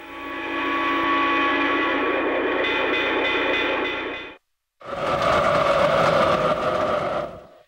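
Lionel O-gauge model trains running on a toy layout, a sustained humming, whirring rumble that cuts out abruptly for a moment and then resumes with a different, brighter motor tone.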